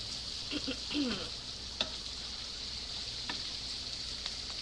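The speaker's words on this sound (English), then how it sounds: "So you have to continue stirring" Peppered shrimps fry in a pan with a steady, close hiss of sizzling oil, and a few spoon scrapes and light taps come through as they are stirred.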